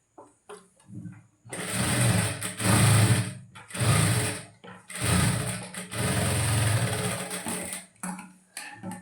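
A sewing machine stitches the neck lining of a blouse in several loud, close bursts of steady whirring, separated by brief pauses and quiet handling clicks.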